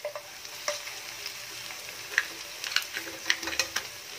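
Crabs added to a pan of sautéed onion, garlic and ginger fry with a steady, close hiss, broken by sharp pops and a few utensil clicks toward the end, with no talking.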